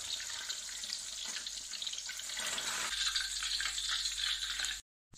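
Japanese tofu dropped into hot blended oil in a wok, a close, continuous crackling sizzle that swells slightly midway before cutting off abruptly near the end, with no voices.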